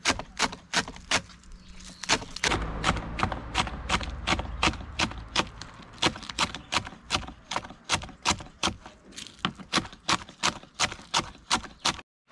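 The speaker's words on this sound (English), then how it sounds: "now I cut up the scallion first" Knife chopping scallions finely on a cutting board, a long run of crisp, evenly spaced taps at a brisk steady rhythm, close and clear with no talking.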